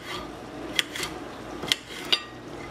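A knife slices green peppers into long strips on a board, with soft rasping cuts and three sharp taps of the blade striking through.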